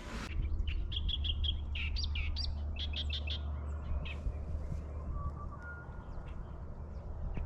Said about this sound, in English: There's definitely no shortage of bird life out here.